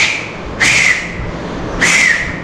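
A referee's whistle used for a kabaddi match gives two short, shrill blasts about a second apart, loud and close, with nothing else over them.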